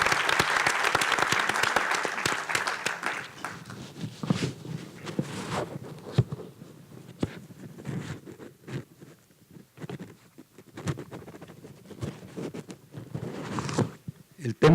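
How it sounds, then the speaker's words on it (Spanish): Audience applauding panelists at a Mexican forum on mobility and logistics strategies, a burst of clapping that is loudest at the start, then thins into scattered claps and murmuring with some talk. "Pido un aplauso para todos los panelistas."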